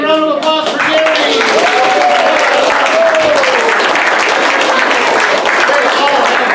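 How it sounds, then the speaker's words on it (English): Loud, dense applause from an improv comedy audience fills the whole stretch, with a voice calling out briefly at the start. "big round of applause for Gary."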